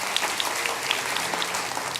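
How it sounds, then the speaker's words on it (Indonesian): An audience at a church service applauds, a dense, even wash of many hands clapping that holds steady without any talking. "Kita berikan tepuk tangan bagi mereka."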